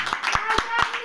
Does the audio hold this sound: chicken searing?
no